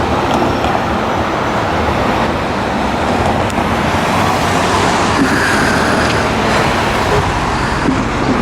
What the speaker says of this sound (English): there goes our school bus